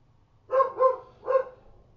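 A dog barks three times close by, two quick barks followed by a third after a short pause, over a quiet indoor room with a low background hum.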